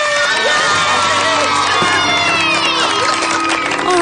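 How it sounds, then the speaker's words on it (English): Children cheering and shouting excitedly as a loud, continuous crowd of young voices at a festive Christmas gathering, with whoops rising over the din throughout. "Now, kids, there's no need for all this excessive cheering."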